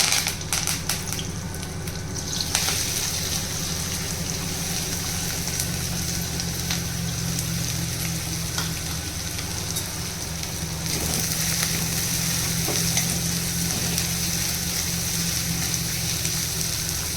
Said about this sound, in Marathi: आता आपल्याला राईचा तडका द्यायचा आहे आणि कांदा भाजून घ्यायचा आहे.